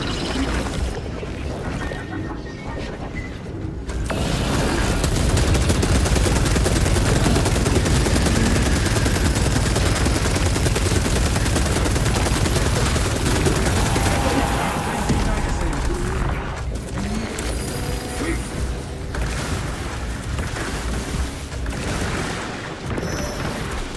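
Sustained heavy bolter fire from the video game Space Marine 2 roars in a dense, continuous stream of loud booming shots, with brief lulls and impacts mixed in.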